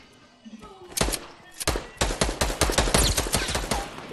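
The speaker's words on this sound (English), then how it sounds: "Hey, watch out, he's sniping." Rapid gunfire from a shooter video game, a loud run of sharp bursts and single shots that grows denser after the first second, with players talking faintly underneath.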